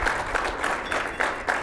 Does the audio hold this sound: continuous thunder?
no